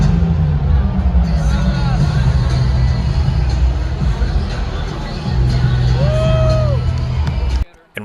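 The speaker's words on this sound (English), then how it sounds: "the crowd made it clear who they'd rather want to see" A packed wrestling arena crowd at a premium live event cheers, whoops and chants in a loud, continuous roar of massed voices that swells and dips, with scattered shouts rising above the din before it cuts off abruptly at the end.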